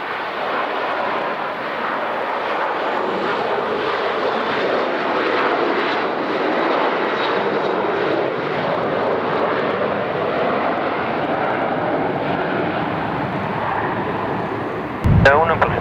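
A jet airliner at La Aurora airport in Guatemala at night, its engines roaring loud and steady for about fifteen seconds under radio chatter, ending with a brief sharp thump.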